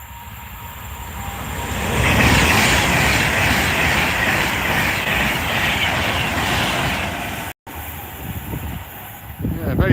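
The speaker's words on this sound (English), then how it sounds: "Yeah, here's another one. Another Pendolino." A Pendolino train on the West Coast Main Line rushes past with a loud, sustained roar that swells and holds for several seconds, then cuts off abruptly as a voice begins speaking.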